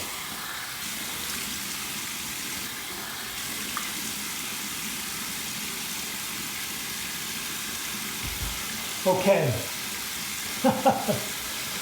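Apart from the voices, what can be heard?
water running from a sink tap while rinsing a shaved head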